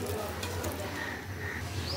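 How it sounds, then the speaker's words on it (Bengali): Kachki fish and raw chillies mixed by hand in a bowl, a continuous close squelching, rustling churn with no clear breaks, heard alone. "সমস্ত উপকরণ একসাথে ভালো করে মাখিয়ে নিয়েছি"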